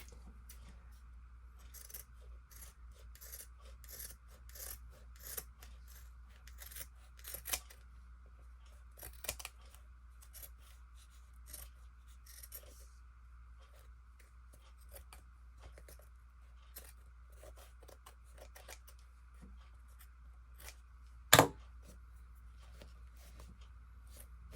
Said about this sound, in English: I'm going to trim this off as well.